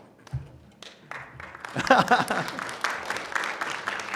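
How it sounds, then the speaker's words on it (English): Conference audience at a GDC 2019 game-developer session applauds, scattered at first, then swelling into steady clapping from about midway, mixed with some murmuring voices. "Are you clapping because now you want to win the device?"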